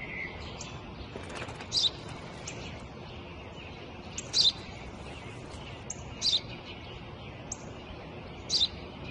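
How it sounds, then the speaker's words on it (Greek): A house sparrow chirps repeatedly, loud clipped notes in irregular bursts, with quieter chirping between them against low ambient noise. "Ένα σπουργίτη είναι, πατέρα."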